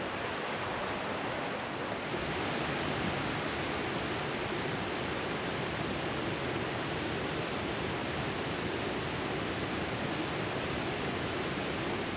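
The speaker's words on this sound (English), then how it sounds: "The third waterfall opens up wide" A wide waterfall on a Tennessee hike roars with a dense, constant rush of falling water, loud and steady throughout with no voices.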